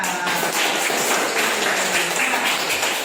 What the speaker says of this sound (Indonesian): Kalau menyenangkan, mana tepuk tangannya?